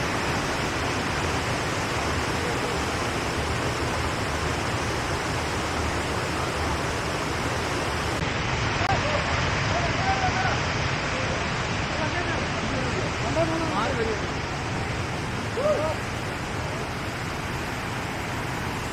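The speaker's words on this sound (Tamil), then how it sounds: "தண்ணி இந்த வழியாக செல்லுது." Steady broadband rush of flowing water, continuous and fairly loud, from a stream running close by near Munnar, India, with faint scattered chirps on top.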